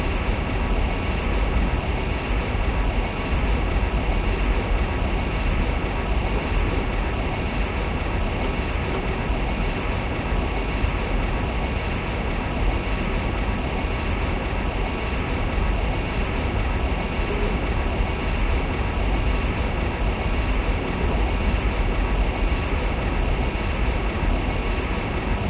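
ICE 2 high-speed train running on the Berlin to Leipzig line in Train Simulator 2017, a steady loud interior rumble and hum of wheels on rails, unbroken and even throughout.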